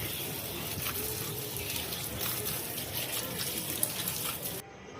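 Steady rush of running water on a rooftop as freshly picked leafy greens are rinsed, a continuous close splashing stream that cuts off abruptly near the end.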